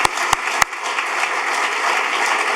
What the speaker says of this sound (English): So I think we offer a little round of applause for that.